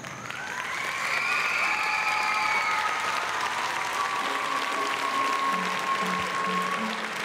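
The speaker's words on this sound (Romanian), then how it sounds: "Din cele mai frumoase aplauze de încurajare." An arena crowd at a rhythmic gymnastics World Challenge Cup in Cluj-Napoca, Romania, gives loud, steady, encouraging applause with scattered cheers, continuous throughout, with sustained tones above it.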